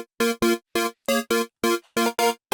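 A detuned square-wave synth patch in Vital, five unison voices at 5% detune, plays eight short, buzzy staccato notes in a choppy rhythm, each cut off cleanly with silence between.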